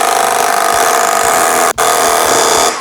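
A SKIL PWR CORE 12 cordless auto hammer drives a nail in a tight space: a loud, steady, rapid mechanical hammering buzz that runs continuously, with one brief break before it resumes.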